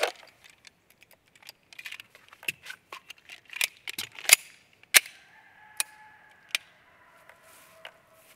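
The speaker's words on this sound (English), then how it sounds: "Leave the mag in it, lock the slide back." A pistol's slide is racked and locked back with the magazine left in during a dry-fire reload drill: a scattered series of sharp metallic clicks and clacks, close and crisp, with quiet gaps between them.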